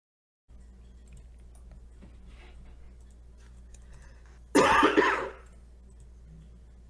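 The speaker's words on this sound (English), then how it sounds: "You got a cough too?" A single short cough, fairly loud and close, breaks a quiet room with a low hum, with faint ticking and rustles around it.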